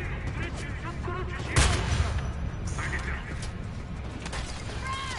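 A newly bought gun fires in the shooter Homefront, with scattered sharp shots and one loud blast over busy game noise, while voices chatter faintly underneath.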